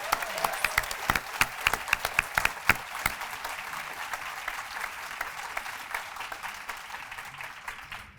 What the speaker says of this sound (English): Can we have a round of applause again for all our finalists?